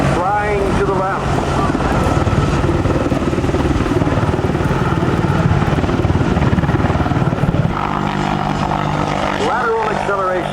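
AH-64 Apache helicopter flying at a military air show, a loud continuous rotor and engine roar with wind buffeting, with talk over it.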